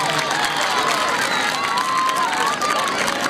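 A crowd at a kabaddi final match between 143 Kabaddi Club and 203 Kabaddi Club claps and cheers for a player in a steady, dense wash of applause, with a commentator's voice riding over it throughout.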